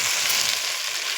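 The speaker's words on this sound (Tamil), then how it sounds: "நல்லா வதக்கி விட்டுக்கலாங்க" Mango pachadi ingredients, green chillies and chilli powder among them, sauté in a hot pan, giving a steady, loud, close sizzle with no voices.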